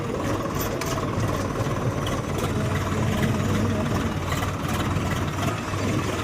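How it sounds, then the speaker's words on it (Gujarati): A tractor engine runs steadily close by, a loud low rumbling drone that holds without a break through the clip. "આ રીતના ટ્રેક્ટર હાલે આગળ"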